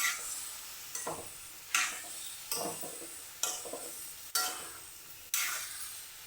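Raw papaya curry stirred in a pan on a stove at low heat, seven or so regular scraping strokes against the pan over a soft sizzle, close but quiet, with no voices.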